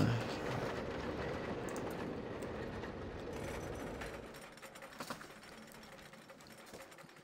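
Roller coaster train with four cars running on track in the video game Planet Coaster, a steady rumbling, rattling roar that thins out into scattered clacks toward the end.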